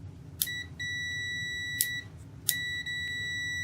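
A multimeter set to continuity test on a roughly 75-year-old meter sounds repeated high electronic beeps: a sustained tone broken by short gaps, with sharp clicks as the probes touch, heard close and alone.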